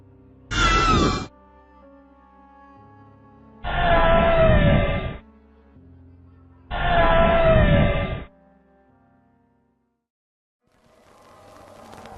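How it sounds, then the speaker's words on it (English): A girl screaming in paranormal footage: three long, loud, harsh shrieks, one short and two of more than a second each, separated by quiet gaps over a faint steady hum, with no talk. "Perhaps the creepiest part about the footage is the girl's scream while he's running away."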